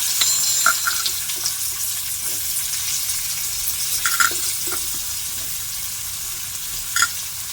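Ginger, garlic, onion and cloves saute in a pan while cooking paneer butter masala, giving a soft continuous sizzle with a few brief clinks of a spoon stirring against the pan.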